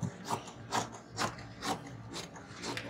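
Scissors cutting fabric for a pleated tube top, a run of about six rhythmic crunchy snips, close and fairly quiet, with no voice over them.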